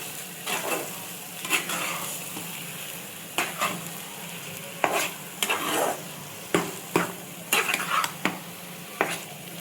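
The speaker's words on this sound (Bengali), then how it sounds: "দেখুন এই যে আমি কচুটাকে এবার একটু কড়াই নেড়ে চেড়ে দিচ্ছি" Mashed colocasia is stirred and scraped in a frying pan, making repeated short spatula scrapes and soft sizzling in an irregular rhythm, close and moderately loud.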